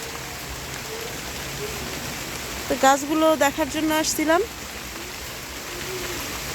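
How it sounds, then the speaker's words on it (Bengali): Steady rain pours over a rooftop vegetable garden with eggplant, hibiscus and gourd plants, a constant close hiss throughout, while a voice speaks briefly in the middle. "আর এই যে বৃষ্টি হচ্ছে গাছে কোনো জায়গায় পানি দিতে হবে না"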